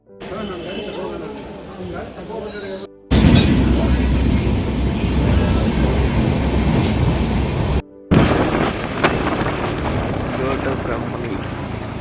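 A train at a railway station rumbles loudly and steadily, a broad continuous roar of rolling wagons that follows a quieter stretch of background speech.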